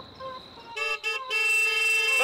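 A car horn honks during an Egyptian comedy series scene, starting with two short blasts and then a long, loud sustained honk over low background noise.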